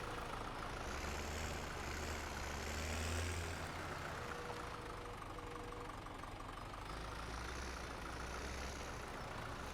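Tractor engine running steadily in Farming Simulator 17 while hauling bales, a continuous low rumble with mid-range drone, loud and close, no voices.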